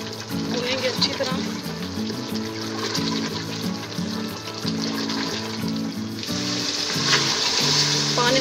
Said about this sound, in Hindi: भूनेंगे अच्छी तरह